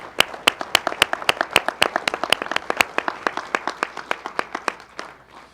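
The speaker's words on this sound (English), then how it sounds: "Can we get a big round of applause for them?" Audience applause for sponsors at the MSIV North Bay NEXT 2023 event, a short round of distinct, fairly close hand claps in a quick rhythm that thins and fades out near the end.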